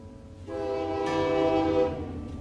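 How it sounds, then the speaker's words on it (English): A train horn blows as a train passes, a sustained harmonic blast that swells and holds for about two seconds over a low rolling rumble, fairly loud and unaccompanied by speech. "And there's the train."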